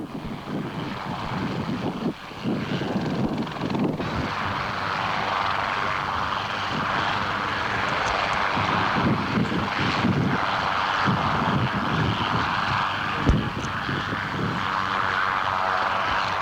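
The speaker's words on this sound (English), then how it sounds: "Puts on a very, very smooth display with the Hughes 300." A Hughes 300 helicopter flying an air show display in Masterton, New Zealand, in 1984 gives a steady, broad engine and rotor roar that stays fairly loud and continuous throughout, with no talk over it.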